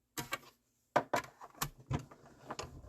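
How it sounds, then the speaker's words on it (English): A die-cutting machine works on a small paper basket for a Christmas card, giving a few sharp mechanical clicks and rolling clunks after a brief silence, close and fairly quiet. "First, I'm going to die cut this little basket."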